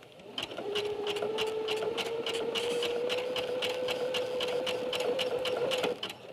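A sewing machine runs steadily while stitching bulky denim with a denim needle, giving a fast, even mechanical clatter and whine that holds for several seconds before stopping.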